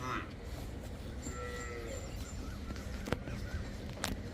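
Jersey cows low faintly amid steady outdoor farm background noise in Punjab, with a couple of brief sharp clicks near the end.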